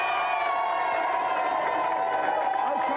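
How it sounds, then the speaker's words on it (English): A game-show studio audience claps and cheers in a dense, continuous roar of applause, loud and close, with no break across the stretch. "let's have a big round of applause for Take This."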